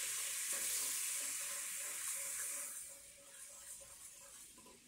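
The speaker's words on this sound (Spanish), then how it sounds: "Vamos a mover bien para que se disuelva bien el consomé de pollo." Potatoes in a pan sizzle softly as chicken bouillon is stirred in, a faint steady frying hiss with light stirring scrapes that fades slightly toward the end.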